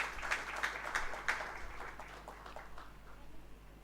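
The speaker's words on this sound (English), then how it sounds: "A big round of applause, ladies and gentlemen" Light audience applause at a memento-giving ceremony, faint and somewhat distant, with clusters of claps that thin out over a few seconds against a low hum.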